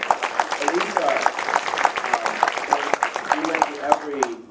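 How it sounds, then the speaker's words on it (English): An audience at a film Q&A with the director and an actor claps for the costume designer, a crackly burst of applause layered with voices talking. "Let's give her a round of applause."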